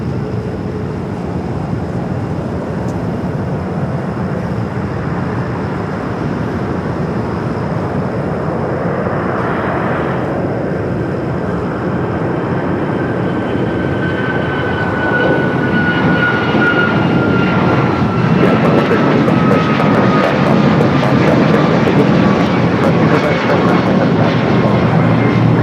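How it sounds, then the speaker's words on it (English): An Alaska Airlines Boeing 737 MAX 9 jet takes off at Los Angeles airport, its engine roar building from a steady rumble into a loud, sustained blast with a rising whine. "Next takeoff is Alaska Flight 233. Flight heading to Newark is 737 MAX 9"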